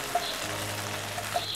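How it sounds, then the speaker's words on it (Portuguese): Calabresa sausage fries in a pan already slick with bacon fat, giving a steady, fairly soft sizzle with a few faint pops, and no voices. "Na mesma frigideira podemos fritar aqui a calabresa."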